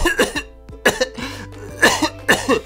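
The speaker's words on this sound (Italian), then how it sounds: "Chissà chi è che ha questa brutta tosse" Several harsh coughs come in quick clusters, close and loud, with short pauses between bursts.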